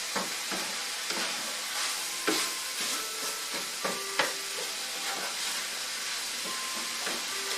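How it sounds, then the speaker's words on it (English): Texas hash seasoned with salt and pepper is stirred in a hot pan, a soft steady sizzle with repeated spoon scrapes and light taps against the metal, no voices. "I'm going to stir that around"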